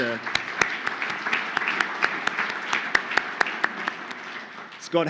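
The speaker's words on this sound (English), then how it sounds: "Can we give him a round of applause?" Audience at a conference morning session applauding a hashtag competition winner, scattered claps with sharp individual hand strikes standing out, fairly moderate in volume, with a voice at the edges.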